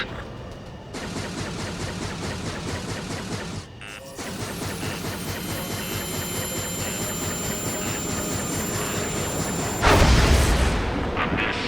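A railgun fires in the flight-combat video game Ace Combat 7, a dense booming discharge over constant engine and battle noise, with a sharp loud burst near the end.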